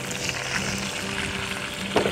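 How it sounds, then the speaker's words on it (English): Potatoes sizzling and crackling in a hot pan, a steady frying hiss with small pops and a louder spatter near the end. "Get a nice sizzle to it."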